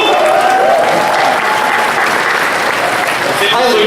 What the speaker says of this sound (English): We deserve to be up on the stage to hear the applause that you're giving